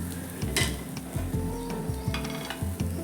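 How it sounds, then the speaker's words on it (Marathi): Chopped onion roasting in a pan with a little oil, a soft sizzle under repeated scraping and clinking of a spatula against the pan in a steady stirring rhythm, close and fairly quiet. "त्याच पॅनमध्ये आपण एक मोठा कांदा चिरून घेतला आहे तोसुद्धा आपल्याला छान असा खरपूस भाजून घ्यायचा आहे त्यावर थोडंसं तेल घालून"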